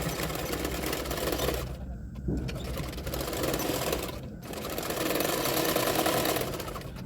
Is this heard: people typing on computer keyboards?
no